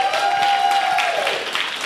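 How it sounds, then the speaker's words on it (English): Church congregation at Oakland Baptist Church giving Reverend Phyllis Martin a round of applause, a continuous wash of clapping that stays fairly loud and even, with a faint sustained tone underneath. "Let's give a round of applause to Reverend Phyllis Martin."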